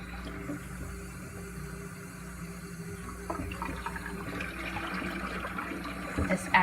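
Running tap water rinses the dust-clogged parts of a Dyson DC28 Animal vacuum in a sink, a steady close wash that continues unbroken throughout.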